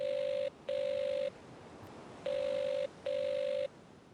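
A telephone in a video game set on Seadrift Island gives a ringback tone with no answer, steady buzzing pulses in two pairs separated by a pause, quiet against a faint noisy background.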